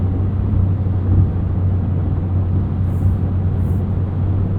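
A 2022 Porsche 911 Carrera with a PDK gearbox cruises in 8th gear at about 80 mph and 1800 rpm, producing a low, even cabin drone and road rumble, steady throughout with no talking.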